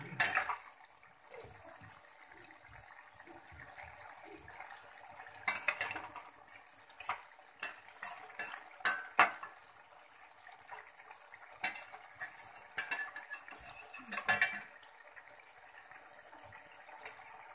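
Aluposto, potatoes in poppy seed paste with a spoon of raw oil on top, stirred in a pan on a gas stove: intermittent scraping and clinking of a spatula against metal, fairly quiet, with brief louder bursts and no talking.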